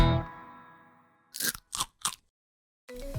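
Three crisp, loud crunching bites of a Taiwanese boba milk tea chocolate snack with tapioca pearls, evenly spaced with silence between them. No one talks.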